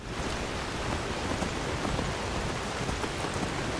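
Steady rain falls in modded Skyrim in a dense, even hiss with scattered droplet patter, constant and moderately loud, no voices.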